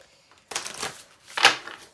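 Tarot cards shuffled by hand in a close, quiet setting: a short burst of riffling, a pause, then a second brisk flurry, with no voice over it.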